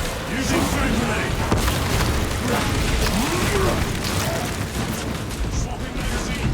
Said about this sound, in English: Using frag grenade!